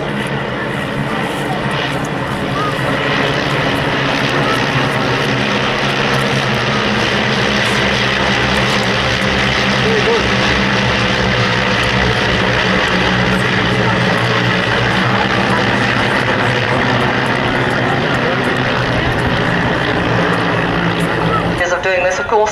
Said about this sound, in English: the sound of 9 gypsy majors is infinitely preferable to my voice, so I'll leave you with that sweet symphony